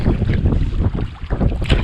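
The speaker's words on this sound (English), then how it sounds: "kind of hard to fish today. It's just so windy," Strong spring wind during a snowy whiteout in Vermont buffets the microphone outdoors by the water in loud, rumbling gusts, with a rough, blustery roar throughout.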